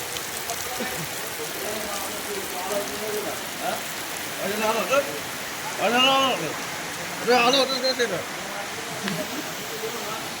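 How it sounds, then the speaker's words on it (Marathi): Heavy rain pours down as a steady, dense hiss, with people talking intermittently over it. "एकदम मुसळधार पाऊस आलाय आणि सगळेजण थांबलोय आता"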